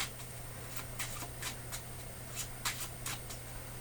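Quiet, rapid riffling of playing cards in short bursts, a crisp flutter repeated several times over a faint steady hum.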